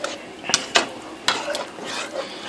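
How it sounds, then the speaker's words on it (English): Chili is stirred in a cooking pot with a utensil, giving a few close scraping strokes and metallic knocks against the sides, separated by brief soft shuffling. "Stir it up."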